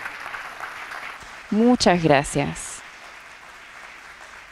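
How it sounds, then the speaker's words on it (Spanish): An audience applauds a lecture by Nobel physicist Takaaki Kajita at a museum, with a steady rain-like patter of clapping throughout and someone briefly speaking over it. "Le damos un fuerte aplauso, profesor."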